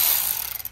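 A tool loosens a fender liner screw on a VW MK7 Golf, giving a short, close run of rapid ratcheting clicks that quickly fade out.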